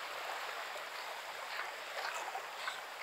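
Waves wash steadily against the rocks at San Fabian beach, a continuous broadband surf hiss with no talk over it.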